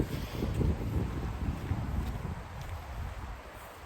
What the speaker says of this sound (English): The wind might blow us out here.